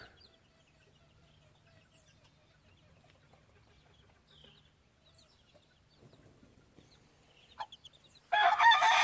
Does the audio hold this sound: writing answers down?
no